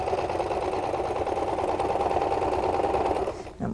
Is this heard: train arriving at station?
no